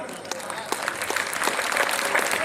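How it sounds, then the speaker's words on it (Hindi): Audience clapping at a Hindi poetry recital in Mumbai, a short, fairly close burst of many hands that builds steadily, with a voice faintly audible underneath. "ऐसे तालियां मांगूंगा और फिर दोगे तो मजा नहीं आएगा यार"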